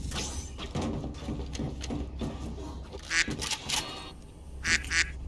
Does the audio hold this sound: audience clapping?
no